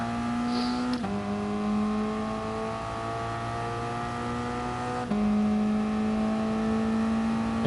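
Toyota race car in the Dynamic GT League racing game at Fuji, its engine droning loud and steady as it accelerates, the pitch climbing through each gear with two sharp drops at gear shifts.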